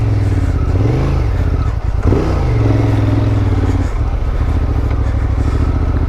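A Honda Transalp motorcycle rides a rough Idaho dirt trail, its engine loud and close, revving in repeated rising and falling sweeps over steady rumble and clatter from the rough ground.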